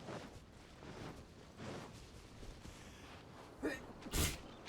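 A single sharp sneeze bursts out near the end, loud and close, after a stretch of quieter breathy sounds.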